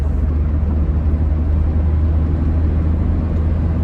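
Toyota Innova Reborn diesel with a manual gearbox, pulling in fourth gear: a steady, loud low engine drone with a constant deep hum, continuous and even throughout with no voices.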